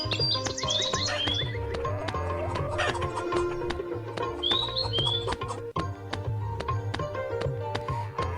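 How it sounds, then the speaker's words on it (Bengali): Chickens cluck and squawk in the Meena 2 video game, with repeated sharp clucks and high chirps over a steady game music loop. "মুরগি পালাচ্ছে দেখো"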